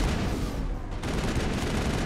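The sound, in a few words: gunfire in video game Mass Effect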